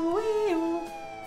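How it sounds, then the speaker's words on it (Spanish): A police car siren in the video game Contraband Police gives a single rising and falling wail, clear and alone, tapering off after about a second. "Encender luz, encender sirena."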